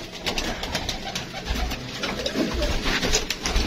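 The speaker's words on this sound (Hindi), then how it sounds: "ये रहा दोस्तों ये कबूतर है" A Rampuri pigeon, freshly caught, coos close by against a steady background hiss, its soft calls repeating through the moment.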